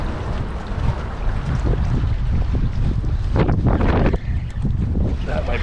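Strong wind gusts roar across the open water around a kayak in New York City, a loud, continuous rumbling buffet against the microphone with faint water movement beneath.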